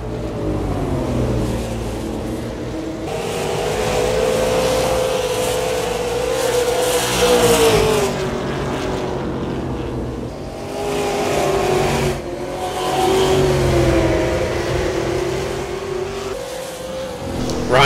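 Super late model race cars thunder around Five Flags Speedway, engines rising and falling as they accelerate off the corners and pass close by. Loud, layered roaring with overlapping cars, faint announcer talk underneath.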